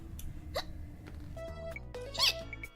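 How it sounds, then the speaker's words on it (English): A single cute, squeaky hiccup from a clown-costumed streamer, sharp and high, rising out of quiet background music and a few earlier soft vocal blips. "A hiccup."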